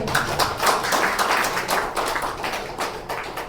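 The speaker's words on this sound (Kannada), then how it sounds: "ಜೋರಾದ ಚಪ್ಪಾಳೆ" A crowd applauds loudly at a felicitation ceremony held by the Udupi district minorities forum, with dense, rapid clapping that swells and fades slightly over a few seconds.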